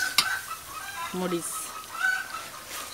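Backyard hens clucking after laying eggs, a few short clucks and calls at a distance, heard faintly under someone talking while she cooks.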